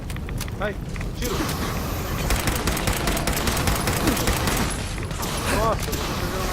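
Rapid gunfire in the video game Fallout 4, dense bursts of shots and mechanical clatter running continuously at moderate volume, with a voice faintly under the shooting.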